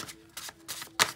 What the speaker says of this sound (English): I'm supposed to shuffle